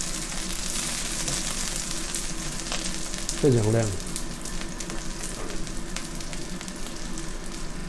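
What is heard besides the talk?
pan-frying vegetarian seaweed bean curd rolls sizzling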